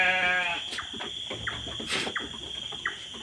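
Goats bleating in a pen at night, with mothers and their kids together: several short bleats from different animals, some near and some farther off, over a steady high insect drone.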